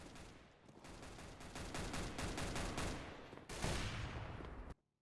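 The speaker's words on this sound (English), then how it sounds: "where did those gunshots go? They just came from doors." Gunfire in a team-based shooter video game, dense bursts of rapid shots crackling for several seconds, a brief pause, then another loud volley before cutting off abruptly.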